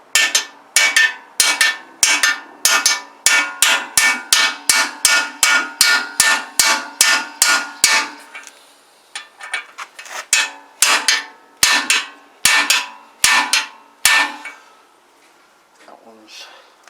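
A hammer strikes a big socket to drive a part into a Zontes Tiger 125 motorcycle yoke: a fast, steady run of sharp metallic blows, then a brief pause and more spaced hits, loud and close.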